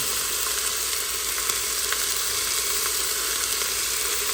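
Pork chops fry in a hot pan with a loud, continuous, even sizzle that holds steady throughout without any talking.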